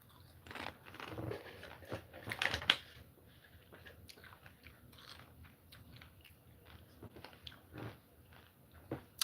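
Someone eats Cool Ranch Doritos, with faint, close crunchy bites and chewing scattered irregularly over several seconds in a quiet room.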